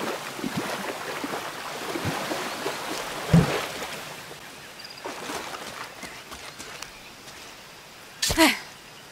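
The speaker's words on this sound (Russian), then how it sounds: "Водопадец." A waterfall rushes in the game Shadow of the Tomb Raider as a steady watery hiss, joined by a few sharp nearby thumps and a brief louder burst near the end.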